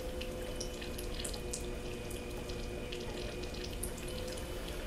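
Water pours in a steady, loud, continuous hiss onto a spinning platter, with no pauses or speech throughout.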